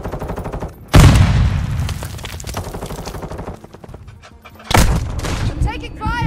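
Loud bursts of gunfire and explosions in a Modern Warfare 2 Hardpoint match on the Strike map, with a heavy blast opening and another striking later, rapid shots crackling between and game voice callouts over the top.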